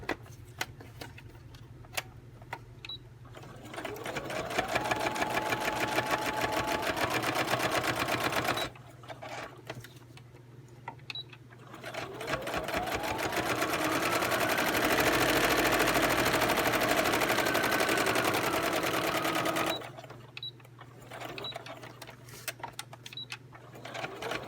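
A sewing machine stitches envelopes in long, quiet runs of rapid needle ticking, steady and close, broken by short pauses with scattered clicks.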